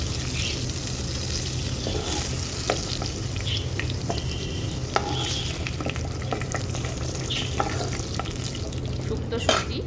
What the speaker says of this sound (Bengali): এখানে কলাটাও বেশ ভালো করে ভাজা ভাজা হয়ে গেছে।